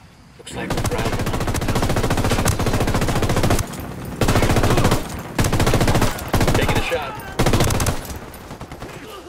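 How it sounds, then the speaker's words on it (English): Sustained bursts of automatic gunfire in Ghost Recon Wildlands during a hospital defense mission, loud and close, coming in several long volleys separated by brief pauses, with faint voices mixed in. "Shooting."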